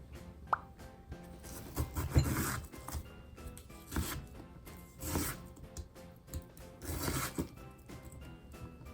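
A knife slices an onion on a cutting board for a Japanese beef bowl, producing soft scraping strokes and dull thuds at irregular intervals, faint and close with no voices.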